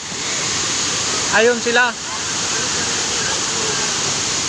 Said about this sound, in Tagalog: yung pinakamalaking falls ng Palau, Republic of Palau. Ngardmau Falls tawagin.